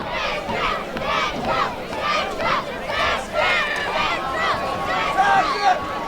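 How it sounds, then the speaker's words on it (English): Fans cheering and shouting at a high school boys' soccer state semifinal in New Jersey, a steady crowd roar with rising bursts of yells and whoops throughout. "Central fans cheering."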